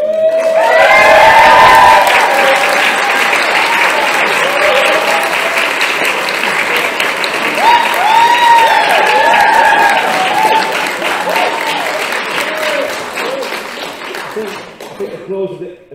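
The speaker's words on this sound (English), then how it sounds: "Applause this early in the process. It's a good sign, Nick." Loud, sustained audience applause welcoming a lecturer at a university inaugural lecture, with cheers and whoops mixed in, starting full and gradually thinning as the crowd settles.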